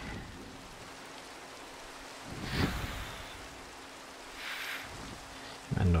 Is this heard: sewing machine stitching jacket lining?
no